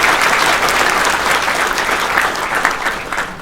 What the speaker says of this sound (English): So if you could give her a round of applause, my wife, Tracy.